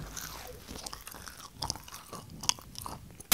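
Close, crisp crunching and chewing from bites of a Popeyes fried chicken sandwich, with a few sharp crackles standing out over soft mouth sounds, with no talking.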